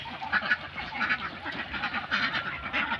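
Khaki Campbell ducks, about two years old, quack repeatedly in overlapping bursts, a lively, fairly close chorus of raspy calls with no talking.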